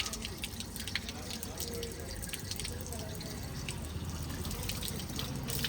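Cold water running and splashing from a tap at a temple, a steady close hiss and trickle with scattered drips, continuous and fairly quiet throughout.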